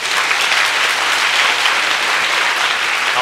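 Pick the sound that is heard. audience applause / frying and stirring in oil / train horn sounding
audience applause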